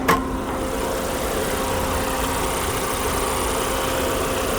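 A 2022 Toyota Corolla SE with a naturally aspirated engine, no turbo or supercharger, idles steadily with a low, even hum and a faint whine, close by and heard alone.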